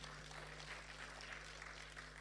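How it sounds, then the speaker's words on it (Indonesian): A church congregation claps together, a soft, even patter of many hands under a low steady hum, fairly quiet and distant with no voices. "Tepuk tangan buat Tuhan"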